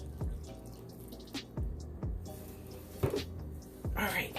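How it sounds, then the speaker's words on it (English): Water is poured into a roasting pan holding a chicken to help make gravy, heard as a run of faint splashes and trickles with brief pauses, fairly close. "I'm going to pour a little water in here"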